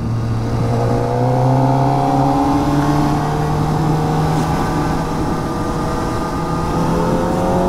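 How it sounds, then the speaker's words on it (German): A Kawasaki Ninja ZX-4RR motorcycle downshifts and accelerates, its engine note climbing steadily in pitch as revs build, loud and continuous under heavy wind rush. "Und wenn man jetzt ans Gas geht, ist es natürlich eher verhalten. Deswegen schalten wir noch mal ein kleines Stück runter."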